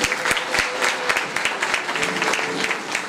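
Applause from a gathered audience at a Bhagavat Katha religious discourse, many hands clapping in a fairly even, brisk rhythm with some louder individual claps standing out close by.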